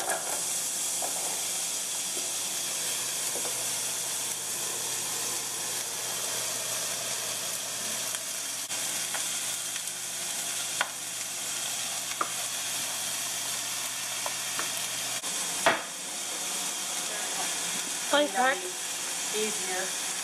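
Chopped onions for Uruguayan empanadas sizzle in two pans at once, a steady bright hiss throughout with a few clinks and stirring knocks toward the end.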